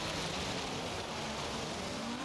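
Stock engine of a car driven on dirt on stock tires in the racing game Forza Horizon 3, a steady, loud, continuous engine drone with a slowly rising pitch near the end.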